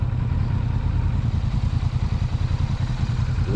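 A Kawasaki Vulcan S motorcycle being ridden gives a close, steady low engine rumble with a throbbing exhaust pulse and some clatter, lasting a few seconds with no talk.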